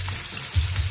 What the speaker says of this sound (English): After maluto na siya, i-add lang natin yung garlic.